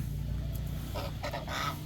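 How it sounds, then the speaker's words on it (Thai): An African goose gives a few short honking calls near the end, over a low steady background hum. "นี่คือห่านแอฟริกัน"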